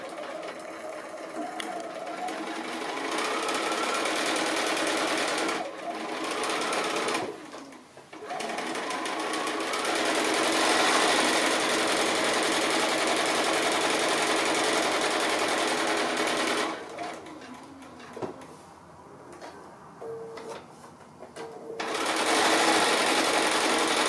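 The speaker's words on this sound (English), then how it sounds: "I'm going to do now is do another row of stitching on those two sides that we've just done, about 1/4 of an inch in this time" Sewing machine running a quarter-inch row of stitching along the sides of a small fabric gift bag, a steady close mechanical whir that pauses briefly twice and then resumes.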